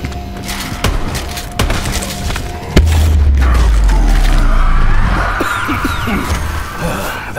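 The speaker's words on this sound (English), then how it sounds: "That was a very large explosion." Large explosion in Black Ops 4 Zombies, a heavy booming blast that follows a few sharp thuds and leaves a sustained loud rumble and crackling debris.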